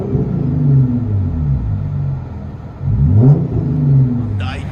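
A 2015 Hyundai Genesis Coupe 3.8L V6 with dual exhaust, muffler delete and resonator kept, heard from inside the car: a deep, loud rumbling drone that swells as the engine revs twice, with a brief voice near the end.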